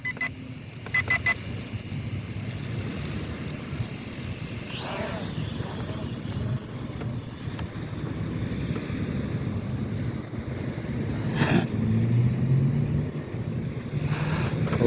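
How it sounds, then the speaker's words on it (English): Strong seaside wind buffets the microphone in a steady low roar, with a few brief higher tones and a short bright burst near the end rising above the gusts. "Again, it's really windy."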